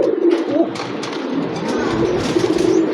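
Musaldom pigeons coo close by in a pigeon seller's coop, with repeated low, throaty, rolling coos over faint background noise.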